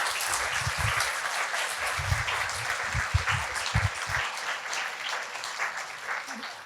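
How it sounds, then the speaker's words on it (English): A concert audience gives a sustained round of applause for library staff, dense steady clapping throughout with a few louder claps standing out near the end. "if we can give them a round of applause"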